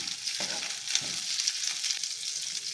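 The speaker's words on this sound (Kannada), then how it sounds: "ಈರುಳ್ಳಿ ಸ್ವಲ್ಪ ಫ್ರೈ ಮಾಡ್ಕೊಳ್ಳೋಣ" Onions frying in oil in a home kitchen pan, a steady crackling sizzle with a few louder bursts, close and continuous with no talking.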